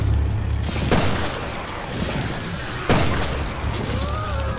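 Two heavy gunshots from Resident Evil: Revelations 2, spaced about two seconds apart, each a sharp booming crack over a rumbling game background.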